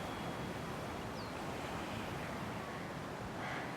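Ocean surf washes onto a Kauai shore in a constant, soft roar of breaking water, steady and fairly quiet, with wind mixed in and no talking.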